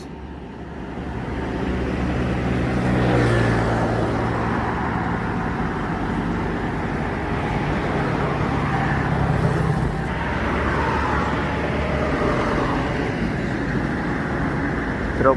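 An MPM Jetbus 3 Sutan Class coach drives along the road, a loud, steady engine and tyre roar with rushing wind that swells slightly and holds on as the bus passes close by.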